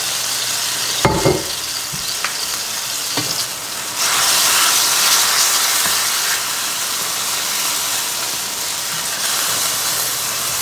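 Red wine reduces in a hot pan around a hamburger patty, a loud, close, continuous sizzle and hiss with a few sharp clatters early on, then a steady intense bubbling fry, with no voices.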